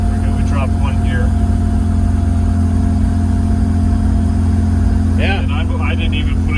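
Turbo diesel engine of a Toyota Land Cruiser Prado pulling uphill at part throttle after a downshift, a steady loud low drone held throughout, with brief speech near the start and again near the end.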